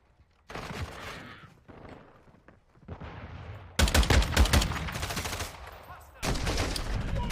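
Weapon fire in Modern Warfare II, a scoped gun with heavy recoil, comes in loud bursts of rapid shots separated by quieter gaps, with a broad wash of battle noise and no clear talk.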